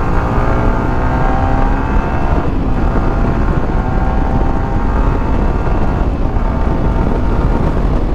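A brand-new blue motorcycle engine revs steadily during a ride, a continuous loud drone with rising harmonic sweeps as it accelerates, mixed with heavy wind rush across the microphone.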